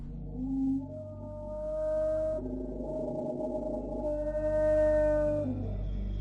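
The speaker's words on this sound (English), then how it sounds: "This is the sound of that giant fish we saw in the tank" A giant fish in a tank from the game Riven gives low, droning, whale-like tonal calls in two long swells with a faint gliding overtone, deep and resonant, no voices present.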